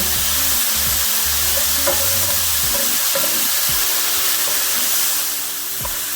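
Beans stir-fried with a tablespoon of dried parsley for a three-bean vegetable salad, a loud hissing sizzle with low clatters and scrapes of stirring, close up, easing slightly toward the end.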